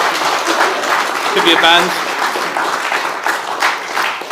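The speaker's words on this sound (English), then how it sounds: "big round of applause, please" An audience applauds after an association's AGM presentation, a steady broad wash of clapping hands throughout, with a few voices speaking over it.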